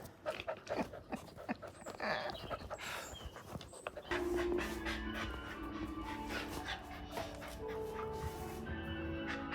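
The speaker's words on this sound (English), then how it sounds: "Here's the puppy." A puppy pants and whimpers up close, with quick breathy huffs, thin high whines and a few short yips scattered through the stretch, quiet overall and with no talking.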